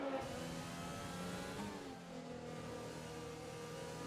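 A Ferrari Formula 1 car's engine in the F1 2020 racing game, a high, buzzing whine that eases briefly around the midpoint and then holds steady, fairly faint and steady with no commentary over it.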